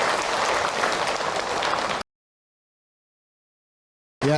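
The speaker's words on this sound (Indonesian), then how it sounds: "Tepuk tangan atuh" Applause comes from the audience at an Islamic sermon by Ustaz Hilman: a burst of dense clapping lasts about two seconds, then cuts to silence before another loud sound returns at the very end.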